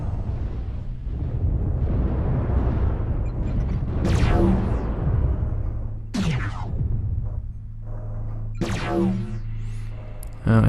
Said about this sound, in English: Looks like my airstrike did not hit anyone.